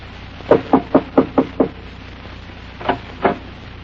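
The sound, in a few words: knocking on a cabin door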